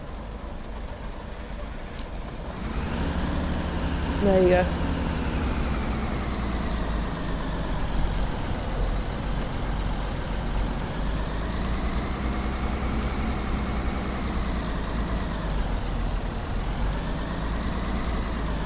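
Class 101 diesel multiple unit engine cold start: after a brief quiet a diesel cranks and catches at about two and a half seconds, then settles into a loud steady idle with slow swelling rev changes, someone speaking briefly.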